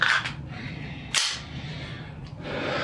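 An HPA airsoft pistol fires dry with no BBs and its slide locks back, giving one loud sharp crack up close and then a smaller metallic click.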